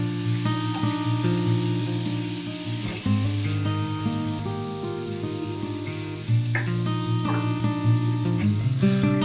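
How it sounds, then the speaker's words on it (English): Fresh minced garlic sautés in melted butter, a steady close sizzle with occasional stirring scrapes and layered tonal music throughout. "Once the butter is completely melted, add the fresh minced garlic and sauté until aromatic"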